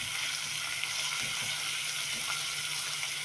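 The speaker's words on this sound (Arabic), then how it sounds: "هنا هنحط تومة مفرومة مع حتة زبدة، وهنقلب التومة في حتة الزبدة كده" Minced garlic sizzles in melted butter in a pan, a steady close frying hiss with soft crackle throughout and no talk.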